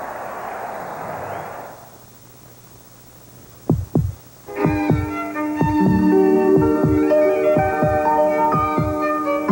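Heartbeat sound effect from a 1980s Chevrolet Nova TV advert: a few deep thumps in pairs, then a steady, loud pulsing beat under swelling music.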